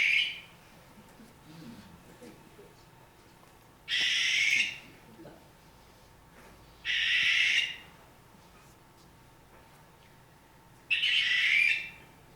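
A New Jersey owl gives four harsh, hissing screeches spaced a few seconds apart, fairly loud against a quiet background.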